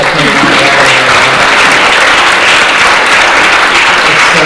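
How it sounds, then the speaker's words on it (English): Loud, dense audience applause at a live on-stage app marketing event, a steady wash of many hands clapping for the full duration with no talk over it. "big round of applause to Chris"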